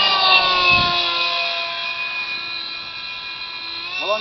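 Electric motor of a Zagi flying-wing model airplane, a steady high-pitched whine with bright harmonics that slowly drops in pitch as the plane passes and recedes, with a brief low thump early on.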